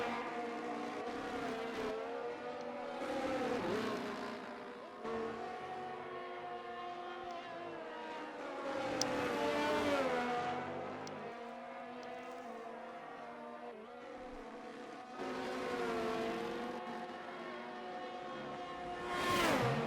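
Race cars lap the Qatar circuit in a sim racing game with high, whining engines that rise and fall through shifts, several passing one after another, loud and steady without talk.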